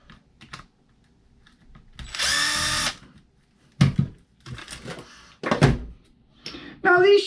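A power drill whirs in one short burst lasting under a second while taking the bottom bolt out of a Traxxas Fiesta rally RC car shock, set among clicks, handling clatter and brief talk.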